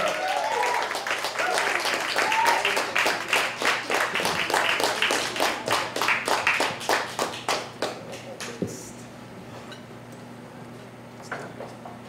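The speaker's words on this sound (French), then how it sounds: "Une bonne main d'applaudissements pour Louis" An evening audience at a spoken-word and music night gives a performer, Louis, a round of clapping, steady and close for about eight seconds before fading into scattered final claps and room quiet.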